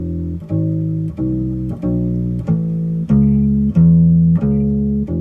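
Bass guitar plays walking lead-in notes in a 12-bar blues, distinct plucked notes one after another in a steady stepping rhythm, each ringing briefly before the next, loud and close.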